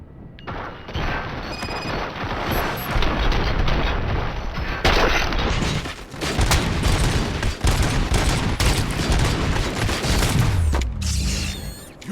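Sustained gunfire from a prison riot shootout in the Robocop: Rogue City video game: loud, dense volleys of rapid shots and booms running almost nonstop, with a brief lull near the middle before the barrage resumes.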